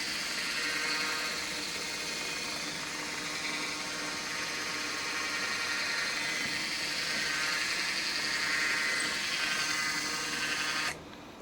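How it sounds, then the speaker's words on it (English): A 3D printer runs steadily in the background of a machine-shop setting, a constant broadband whir and hum with faint mechanical tones, holding level for about eleven seconds before dropping off abruptly at the end. "Sorry if you hear my 3D printer in the background."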